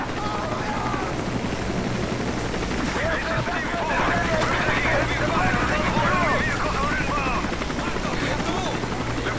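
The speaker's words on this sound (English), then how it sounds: "Is that actually evac choppers or those bad guys?" Evac helicopters in Call of Duty Modern Warfare 3 drone steadily with loud, continuous rotor wash, joined by scattered crackles of distant gunfire and faint muffled voices.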